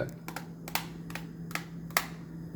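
Buttons on a game controller are tapped in a galloping, shuffled rhythm while playing Devil May Cry 3, giving quiet paired clicks that repeat over a low steady hum.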